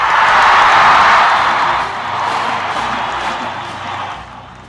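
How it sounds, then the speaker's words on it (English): A large crowd applauds and cheers loudly and continuously as the President of the United States walks on stage. The dense clapping swells at first, then eases slightly. "To much fanfare and applause"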